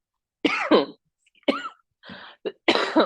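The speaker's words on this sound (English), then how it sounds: "Or make you cough, excuse me, as I'm getting over this little cold." Several harsh coughs in a row from a person getting over a cold, close and loud, with short pauses between bursts and a throat-clearing sound near the end.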